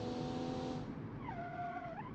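Video game car with fade-prone brakes and no ABS locks its wheels, producing a loud sustained tire squeal with a rising and falling pitch over steady engine roar.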